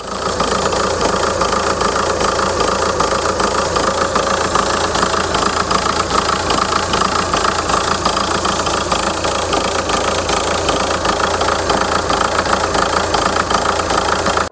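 A Volkswagen Touran 2.0 TDI 136 hp diesel with a faulty EGR valve and throttle body idles roughly and unevenly, with jerks. The engine runs loud, close and continuous, with no voices.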